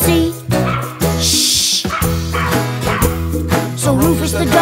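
Cartoon dog barking within a children's nursery rhyme song, the short yapping barks sitting over steady sung music and instrumental backing throughout.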